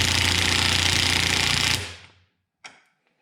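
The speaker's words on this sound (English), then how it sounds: "we're just going to take the impact wrench and give it a try on some of these" A DeWalt DCF923 20V 3/8-inch cordless impact wrench on setting 1 hammers a 1/4-inch bolt in a loud, close, rapid rattling burst of about two seconds that winds down, then one brief short zip follows.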